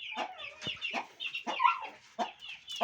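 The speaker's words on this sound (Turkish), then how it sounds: "Şu an horozların hepsi dışarıda." Several roosters, including Ispenç-breed birds, out in the open after their coop was cleaned and disinfected, cluck and make short crowing calls in quick, overlapping bursts at close range, with no talking.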